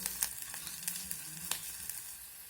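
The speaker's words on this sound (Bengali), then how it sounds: "এখন সব কিছু নাড়াচাড়া করে ভেজে নেব আদা রসুনের কাঁচা গন্ধটা চলে যাওয়া পর্যন্ত" Chopped garlic, ginger and green chillies frying in a pan, a quiet steady sizzle with several soft spatula taps and stirring scrapes.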